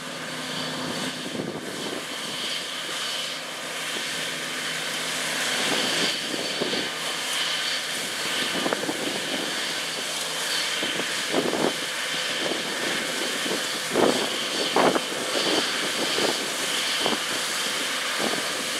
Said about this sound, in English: Here we can see the 543 horsepower John Deere S690 combine harvesting the canola.